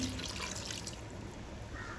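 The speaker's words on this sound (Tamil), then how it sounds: "இப்போ நம்ம தேவையான அளவுக்கு தண்ணி வச்சுக்கலாம்" Water is poured into a pan of crab curry gravy. The trickle and pour is soft, steady and brief, with no voices.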